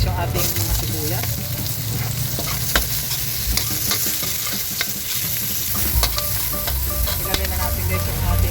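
Garlic and onions fry in a pan with a continuous, close sizzle, while a utensil stirs them with frequent scraping and clattering throughout.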